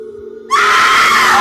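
A familiar voice lets out a loud scream at night, bursting suddenly after a quiet hum and holding as a sustained, piercing cry close by.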